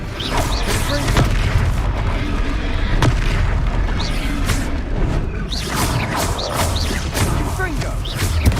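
Spell explosions from the Confringo blasting curse in the Hogwarts Legacy video game, repeated booms and crashes in a dense, loud battle mix with game music and shouted voices throughout.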